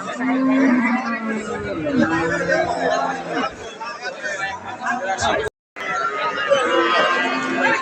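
A Holstein Friesian heifer at a busy cattle market lets out several long, low moos, close and loud, over a steady background of crowd chatter and people talking.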